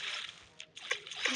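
Water splashes and sloshes in a drain-the-lake video game, a few soft irregular bursts of splatter over a steady watery hiss, fairly quiet throughout.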